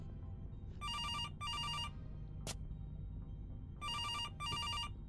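A telephone rings in two pairs of electronic trills separated by a pause, with a brief sharp click between them, moderately loud over a low background hum and without speech.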